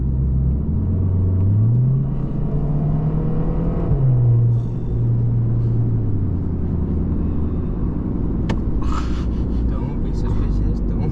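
A car engine revs while driving on city streets in Copenhagen, rising and falling in pitch over a steady road rumble, heard from inside the car with someone talking throughout.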